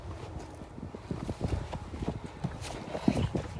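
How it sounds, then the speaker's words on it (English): Hooves clip-clop in a steady, uneven rhythm close by, with a bit of wind noise in the background. "This is horses in there"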